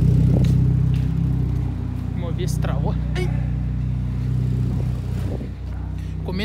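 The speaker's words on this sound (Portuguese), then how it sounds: "eu vou estar dando uma melhorada nesse som aí, do escapamento" A Volkswagen Saveiro pickup with a straight-pipe exhaust idles with a loud, deep rumble and rises in brief revs, while people talk nearby over the engine.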